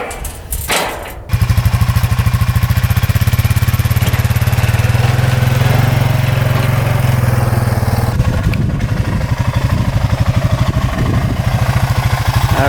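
A Honda ATV engine idles steadily and loudly up close, a continuous low throbbing drone with a brief knock at the start and a slight change in tone partway through.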